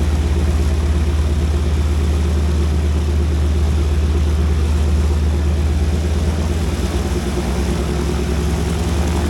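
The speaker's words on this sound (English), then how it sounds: "I still remember the engine note of a Harvard trainer aircraft." A Harvard trainer aircraft's engine drones steadily and loudly at an air force base, a continuous low propeller hum holding without a break.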